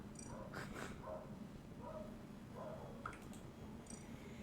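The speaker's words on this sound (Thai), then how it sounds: "หมามันเห่าอะไรอะ" A dog somewhere outside barks and whimpers faintly in short scattered bursts, distant and low against a steady background hum.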